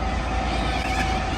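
A train approaches and rumbles past at a free camp in Winchelsea, a steady broad roar with a faint high tone, fairly loud and without talk.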